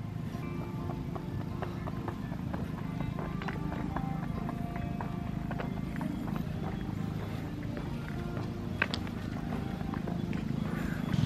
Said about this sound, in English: Look, there's a horse.